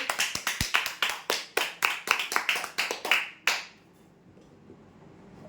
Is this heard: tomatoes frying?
no